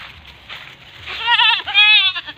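Male goats on a farm bleating loudly and close, two or three wavering calls in quick succession over faint background noise.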